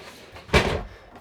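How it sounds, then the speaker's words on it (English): Pocket door in a 2026 Keystone Reign 19RK RV slides shut with a single short thump midway, otherwise quiet. "So this living area gets closed off when not in use through the use of this pocket door."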